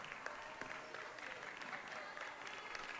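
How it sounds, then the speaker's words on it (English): A basketball team bench applauds after an Averett women's basketball win over Hollins, with faint, steady clapping and crowd noise heard from a distance in a gym, mixed with a voice talking. "The bench stands up and applauds."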